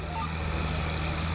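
Farm vehicle reversing in a farming simulator game, a steady repeating backup beeper over a loud, constant diesel engine drone, close and continuous.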